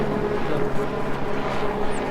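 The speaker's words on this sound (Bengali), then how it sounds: "ওপর দিয়ে হেলিকপ্টার যাচ্ছে।" A helicopter passes overhead on the mountain trek of the Amarnath Yatra near Sheshnag. Its steady, broad engine drone fills the clip without interruption.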